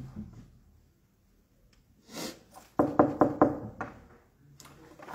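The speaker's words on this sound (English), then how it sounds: "So, knock knock." Knocking on a door, two quick bursts of sharp raps, the second a loud run of four close knocks, heard near and alone in a quiet setting with a little breathing around it.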